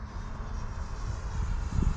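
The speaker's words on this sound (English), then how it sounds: "Plenty of power from the DualSky motor. Plane is beautiful in the air." A 67-inch Skywing ARS 300 radio-controlled airplane with a DualSky electric motor flies overhead on a spring day, its motor giving a steady, fairly close droning buzz that swells slightly.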